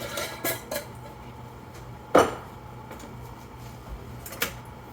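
Stirring and mixing ingredients in a cooking pan while preparing a vegan sweet and spicy dish, heard as a few separate clinks and scrapes of utensil against pan over a quiet kitchen background.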